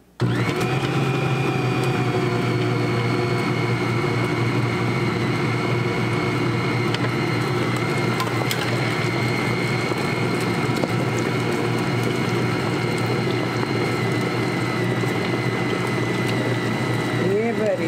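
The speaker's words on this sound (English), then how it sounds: "This Bosch mixer is a workhorse." Bosch stand mixer churning heavy fruitcake batter with four cups of toasted nuts, a loud, steady motor drone with a constant whir that runs unbroken from start to finish, close to the microphone.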